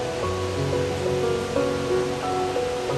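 Steady roaring rush of Kegon Falls in Nikko, Japan, loud and continuous, with faint tonal hums layered underneath.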